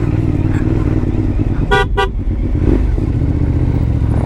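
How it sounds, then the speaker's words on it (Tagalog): Two short horn toots sound in quick succession over the steady roar of a motorcycle engine and wind on a mountain backroad in Benguet. "Buti na busina ako."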